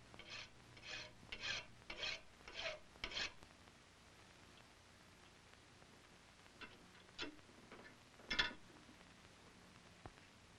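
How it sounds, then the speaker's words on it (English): A file rasps against the breech of a steel gun barrel in five rhythmic strokes, then pauses, followed by a few scattered scrapes and a sharper final stroke, fairly quiet. "file down the breech of the barrel until the plug turns around to the proper"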